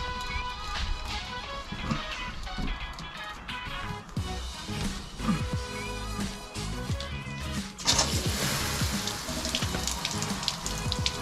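Water gushes and splashes from a pipe during a home plumbing job replacing copper with polybutylene, a steady rushing flow with clanks and knocks, growing louder and brighter near the end.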